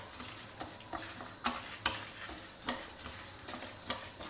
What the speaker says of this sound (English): We will just roast it over a low flame till it comes to a lovely golden brown color